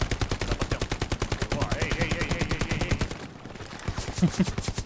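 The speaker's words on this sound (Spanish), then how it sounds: "Me disparan." Rapid, evenly spaced automatic gunfire in the video game Hell Let Loose, loud and sustained, with a brief lull before the bursts resume.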